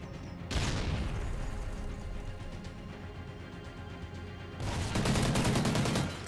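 Rapid automatic gunfire rattles in Call of Duty: Ghosts during a 2v2 match on the Octane map, a dense loud burst sustained for several seconds, a brief pause, then another heavy volley.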